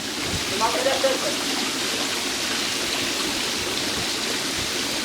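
Live fish fry poured by hand into water at a fry market, giving a steady rush of splashing water throughout with a brief brighter splash near the start.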